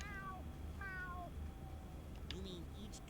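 A cartoon snail pet in a SpongeBob video game gives a few short, high, falling meows, with a quiet game soundtrack underneath.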